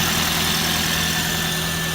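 A hybrid car's engine idles close by with a loud, steady, even hum and a low mechanical drone that holds constant throughout.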